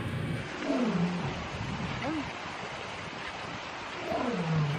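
Lion roar sound effect from a plastic toy lion, a few low, drawn-out roars rising and falling in pitch over a hissy background, with talking partly over them.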